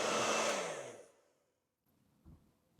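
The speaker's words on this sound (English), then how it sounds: "got a hair dryer" A hair dryer blows loudly for about a second, then winds down and switches off, leaving quiet broken by a couple of soft knocks; it is used to heat a trim surround on a BMW M3.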